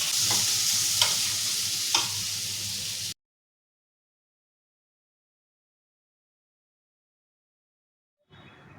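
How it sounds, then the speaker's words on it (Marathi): Thecha chili chutney sautéing in a pan, giving a steady sizzle with a few stirring knocks for about three seconds, then silence until a brief return of sound at the end. "आणि हा चांगला परतून घ्यायचा"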